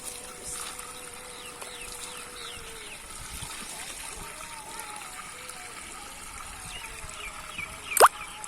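Rice washed in water in a home kitchen, with a soft trickling and sloshing as grains are rinsed, faint and continuous, ending in a brief louder clatter.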